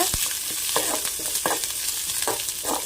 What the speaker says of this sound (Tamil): கொஞ்சமாக ஜீரகம் ஆட் பண்ணிக்கிறேன் எல்லாத்தையும் நல்லா வதக்கிக்கோங்க